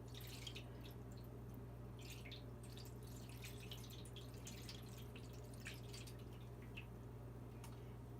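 Fresh avocado dye pours from a bowl into a flat cookie pan, giving a faint, steady patter of trickling and dripping liquid in a quiet room with no talking.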